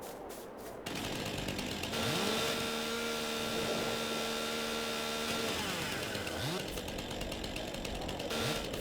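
Chainsaw cutting tree stumps in Farming Simulator 22, a loud steady engine whine that revs up and drops back as the blade bites, running almost continuously for several seconds.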